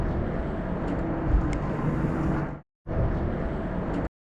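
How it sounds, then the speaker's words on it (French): Airplane passing overhead near an abandoned village outside Paris, a continuous broad engine roar that briefly cuts out and returns, with no talk. "on entend encore le bruit d'un avion"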